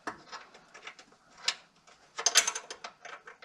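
A nut is threaded by hand onto a car sway bar mount fitted with poly bushings, giving quiet scattered metallic clicks and small ratcheting taps that grow busier toward the end, with no voices.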